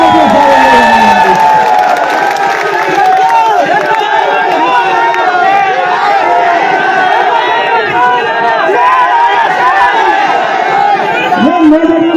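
A large protest crowd at a rally in Sagar, Madhya Pradesh, shouts and cheers without letup, a dense, loud wall of many voices close by.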